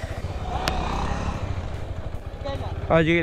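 A TVS motorcycle with a damaged, cracked tyre rides along with a steady, low engine drone close by, and someone talks over it throughout.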